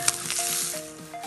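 An egg sizzles in a hot frying pan as it is flipped, with a soft scrape and thump at the start followed by steady close-up crackling, plus faint tonal sounds in the background.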